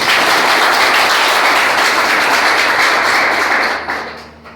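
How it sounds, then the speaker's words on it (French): Loud, dense applause greets a newly elected head of the bar association at a ceremony, holding steady for several seconds before tapering off quickly at the end. "je vous demande de l'applaudir"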